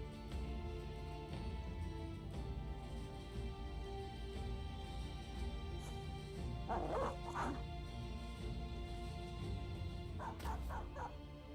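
Dog barking and whimpering in the video game Battle Brothers during a battle, a few short yips in the middle and near the end, faint over a steady dense bed of game noise.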